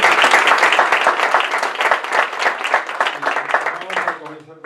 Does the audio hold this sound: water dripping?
no